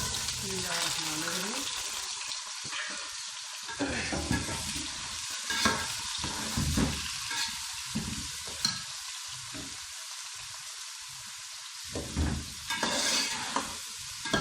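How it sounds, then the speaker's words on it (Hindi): Vegetables for an Iranian sabzi sizzle and crackle in hot oil in a pan, with steady frying hiss and bursts of stirring and scraping throughout, loud and close with no talk. "अब इसको हल्की सी फ्राई कर लेंगे।"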